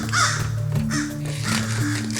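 Crows caw in a few harsh, ragged calls, one after another, loud and fairly close, with a small pause between each burst.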